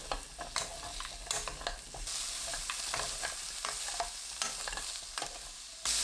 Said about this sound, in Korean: 팬에 식용유 1큰술, 비트 넣고 중불로 2분 30초 볶아주세요.